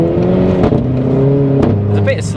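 A 240bhp Renault Clio RS engine blips through a downshift on a greasy road, its tone stepping between steady revving pitches at close range, loud and continuous, with a voice talking over it.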